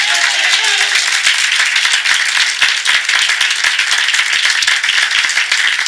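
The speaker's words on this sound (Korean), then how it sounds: "먼저 우리 하나님께 박수로 영광 돌리겠습니다" A church congregation claps together during a Sunday morning worship service, a dense, loud, continuous burst of many hands with no talk over it.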